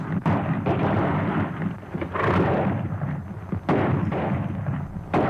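Dense, sustained rattle of gunfire with repeated sharp bursts and booming shots, loud and continuous throughout, no speech.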